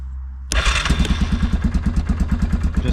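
A 2006 Yamaha Kodiak 450 ATV engine cranks and fires after half a second of near silence, then settles into a steady, close, evenly pulsing idle with no talking.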